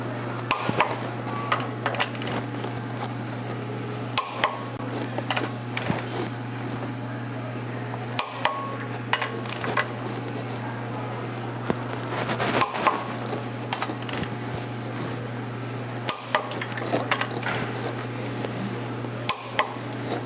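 Hand tools doing the final tightening of the clutch bolts on a 2000 Honda Civic Si 1.6L, with no impact gun, giving irregular metallic clicks and taps over a steady low hum, close by.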